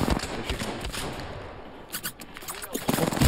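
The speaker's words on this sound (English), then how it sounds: "I'm shooting at them." Gunfire in the online shooter Apex Legends, scattered bursts of shots clustering near the end, with players talking over the game sound throughout.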